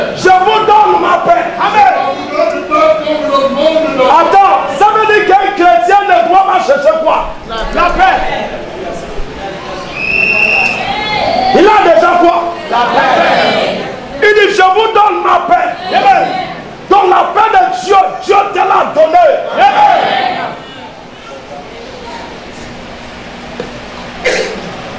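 A church congregation at a Sunday service cheers and acclaims loudly, a dense crowd of shouts and cries swelling in waves with brief lulls, some coughs among them, continuing for about twenty seconds before dropping away.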